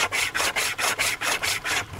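A CRKT survival saw taken from a paracord bracelet cuts through wood with about nine steady, rhythmic rasping strokes back and forth, loud and close, with no talking.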